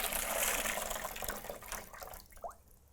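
Water pours out of the emptied drip tray of a JURA ENA 8 espresso machine, a close, steady splashing rush into a sink that tapers off near the end.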